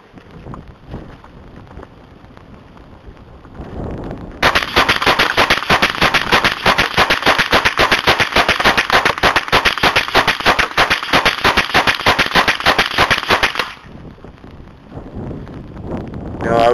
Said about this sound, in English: Now I was able to tell that was the last shot because you can tell by that little click instead of going forward.